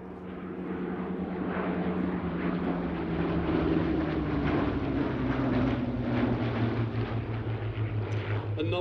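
Hawker Hurricane fighter plane flying at the 2024 Sywell airshow, a steady propeller-engine drone that swells and holds throughout, with a commentator talking over it.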